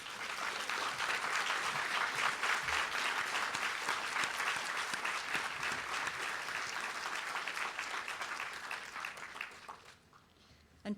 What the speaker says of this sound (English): put your hands together in a round of applause for all those who have supported you